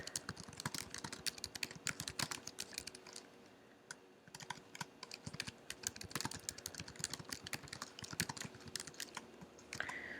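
Rapid typing on a computer keyboard, a close, continuous patter of key clicks for about ten seconds with only a brief lull partway through.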